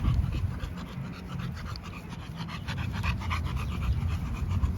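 An American Bully dog pants rapidly and steadily in the heat, a rhythmic close breathy huffing that continues throughout with no talking.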